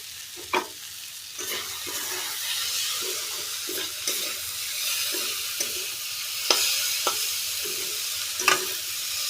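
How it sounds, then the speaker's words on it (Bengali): Bhindi masala spices with chili powder and salt sizzle steadily in a pan while a spoon stirs them, with sharp scraping clicks of the utensil against the pan every second or so, close and alone. "সমস্ত কিছু উপকরণকে ভালোভাবে মিশিয়ে 5 থেকে 6 মিনিট সময় নিয়ে মশলাটাকে কষিয়ে নেব।"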